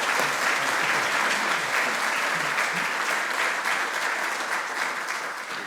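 A lecture-hall audience at an oration applauds to welcome an emeritus professor to the stage, a dense sustained clapping that stays loud and even before slowly thinning toward the end.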